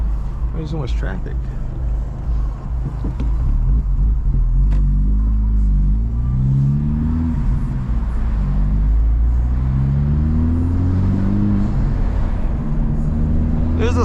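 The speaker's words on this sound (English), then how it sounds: "There's a slight burble when you shift." A 2025 Honda Civic Type R with both resonators deleted rumbles low through traffic, its exhaust burbling and swelling across gear changes while someone talks over the engine.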